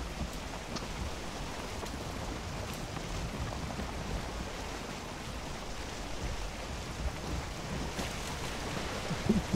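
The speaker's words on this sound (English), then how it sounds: "gonna storm now." A rainstorm in a boat-and-raft survival video game, a dense, steady hiss of rainfall with low rumbling underneath that suggests distant thunder, continuous and moderately loud without any talk.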